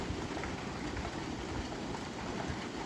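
Morning rain falls in a steady, dense wash with a low rumbling undertone, even and unbroken throughout, heard from nearby with no voices.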